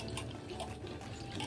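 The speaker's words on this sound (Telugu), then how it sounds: "సో దీనిలోకి తగినన్ని వాటర్ అనేది యాడ్ చేసుకుంటున్నాను." Water poured into a black-eyed pea masala curry as it cooks: a soft, steady splashing and trickling that runs evenly throughout, faint and close by, with no talk.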